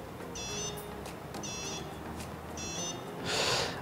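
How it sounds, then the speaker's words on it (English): Three short bursts from an mBot robot's electronic buzzer at a steady rhythm, followed by a brief rush of breathy noise at the end. "The buzz button simply buzzes the buzzer."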